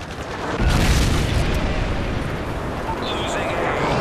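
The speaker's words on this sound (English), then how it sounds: "Friendly Predator missile inbound." Predator missile blast from Call of Duty: Modern Warfare 3 Domination on Outpost 32, a heavy boom kicking in about half a second in and rolling on as a dense, loud rumble with battle noise under it to the end.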